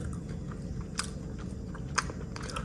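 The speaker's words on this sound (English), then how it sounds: "It's actually kind of like a pleasant crunch on the outside, and the inside just tastes nutty" Cooked silkworm pupae are chewed up close, giving soft wet mastication with a couple of sharper crunchy bites standing out, quiet and with no talking.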